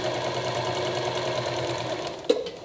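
A sewing machine runs steadily while stitching fabric seams on a slanted strip bag, a close, even mechanical whir that ends with a brief clunk near the end, with no voices.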